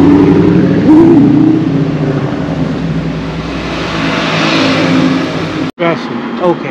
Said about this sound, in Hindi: क्या गाड़ी है।